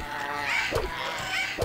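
A scavenger creature in Gothic 2 gives harsh goose-like honking squawks during a fight, two or three short nasal calls close up over a dull background.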